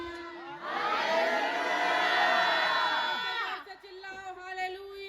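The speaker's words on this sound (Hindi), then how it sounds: "जोर से चिल्लाओ हालेलुया" A church congregation at a Sunday service shouts hallelujah together in one loud, sustained swell of many voices that rises, holds for a few seconds, then fades back into quieter murmuring.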